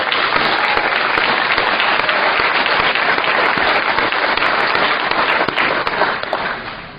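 A conference audience applauds in a dense, steady wash of clapping that holds evenly and then tapers off near the end, with no one speaking over it.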